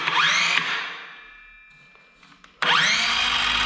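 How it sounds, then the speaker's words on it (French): A circular saw trims the bottom of a wooden door during a room renovation, a loud whining cut that winds down, a short pause with faint clicks, then the blade spins up and cuts again. "à l'aide d'une scie circulaire, on va recouper les pieds de la porte"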